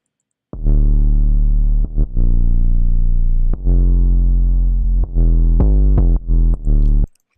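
An 808 bass processed through Camel Crusher on its British clean preset, mono, plays a short pattern of deep sustained sub-bass notes with gliding pitch and clicky attacks, loud and alone.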